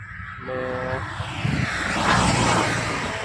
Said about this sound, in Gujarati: જો આ અમારું ટ્રેક્ટર છે